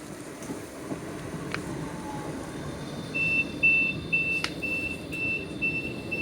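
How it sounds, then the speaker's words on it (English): London tram number 2531 rolls in at Beckenham Junction with a low, steady rumble, and a repeated high electronic beeping sounds through the second half. "Meanwhile, tram number 2531 comes in."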